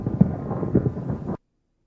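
A short thunder sound effect played on a radio talk show to open its lightning round, a loud rumbling burst of about a second and a half that cuts off abruptly into silence.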